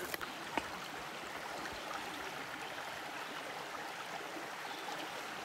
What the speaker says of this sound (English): Just tiny little shallow creek.